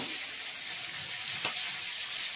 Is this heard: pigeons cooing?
no